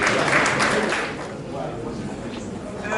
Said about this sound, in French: est-ce qu'on peut applaudir pour la vie de maman?